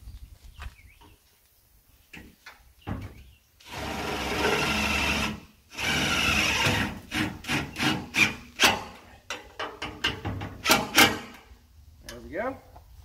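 Self-tapping screws driven with a power drill to mount a small solar panel on a deer feeder under rebuild: two sustained whirring bursts, then a run of short rhythmic buzzing pulses, heard up close with a voice speaking at times.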